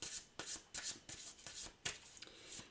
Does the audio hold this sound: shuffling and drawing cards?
yes